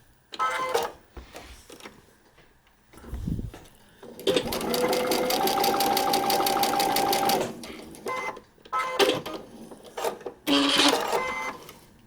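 A sewing machine stitches a paper-pieced quilt block in close, loud bursts: short runs, one long steady whirring run of several seconds, then more quick stop-start stitching.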